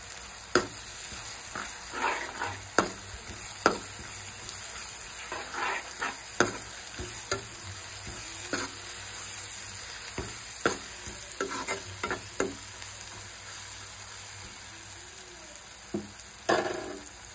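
Onions frying with ginger garlic paste for a Telugu-style egg fry, a soft, steady sizzle under repeated sharp clicks and knocks of a utensil against the pan at an irregular pace, close by, with no talking.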